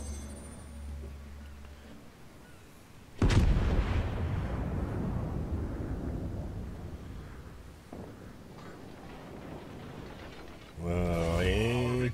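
A battleship main-gun salvo in World of Warships booms suddenly and loudly, then rumbles and decays over several seconds, followed later by a second, shorter burst of noise.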